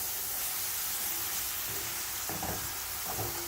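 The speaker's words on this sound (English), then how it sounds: "I am sauteing this stuff for the rice with sardines" Vegetables sauté in a hot pan for rice with sardines, giving a steady, soft sizzle and hiss throughout, with a few faint stirring scrapes near the end.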